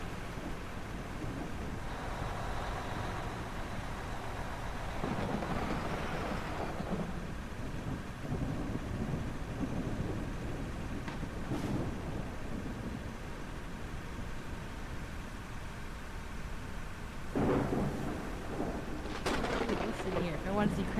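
Thunderstorm weather in the video game Out of Ore: low rumbling thunder and steady rain hiss roll on under faint wind, with a few sharper cracks near the end.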